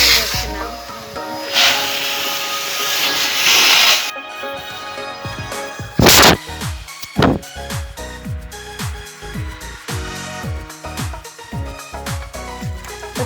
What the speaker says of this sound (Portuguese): Depois de apanharmos o lixinho todo, temos que aspirar.